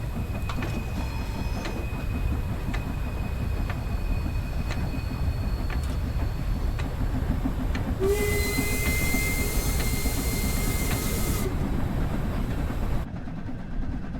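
A steam train runs in Train Sim World 3 with a steady, dense rumble and rhythmic chuffing throughout, then a loud burst of hissing steam for a few seconds that cuts off before the end.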